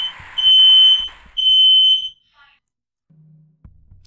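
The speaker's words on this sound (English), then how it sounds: "That was my fire alarm." Two long, shrill electronic smoke alarm tones blare close by, each about a second long, followed by quiet with faint low thumps.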